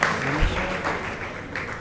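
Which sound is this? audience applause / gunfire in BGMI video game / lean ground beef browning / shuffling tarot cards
audience applause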